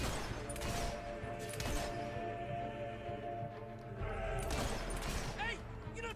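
Gunfire in the Fable 3 video game, with dense bursts of shots cracking over a busy mix of game music and effects, voices talking throughout.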